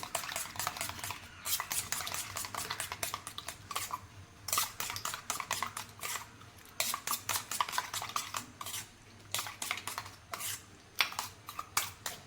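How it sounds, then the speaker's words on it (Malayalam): Chopped shallots, green chili, salt and turmeric being mixed in a bowl for an omelette, heard as busy scraping and clinking of a spoon against the dish in dense bursts, close and moderately loud, with no speech. "അരിഞ്ഞു വെച്ച കൊച്ചുള്ളി, പച്ചമുളക്, ഉപ്പ്, മഞ്ഞൾപ്പൊടി എല്ലാം കൂടെ ഒന്ന് മിക്സ് ചെയ്യുക."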